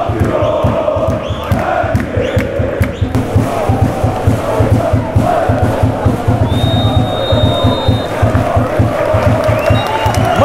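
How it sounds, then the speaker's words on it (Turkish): Football crowd at Pendik Stadium chanting for champions Pendikspor during a match against Uşak Spor, loud rhythmic massed voices with whoops and cheers, a match commentator talking over it. "şampiyon Pendik tezahüratları var Pendik Stadyumunda"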